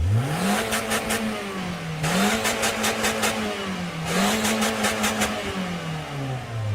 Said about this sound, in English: The engine works quietly, both at idle and at cut-off.